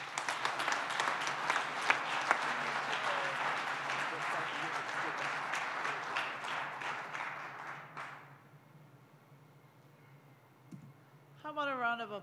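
Applause from the audience at the 2019 Visionary Leadership Awards, dense and fairly close for about eight seconds, then dying away to quiet before a voice starts speaking near the end.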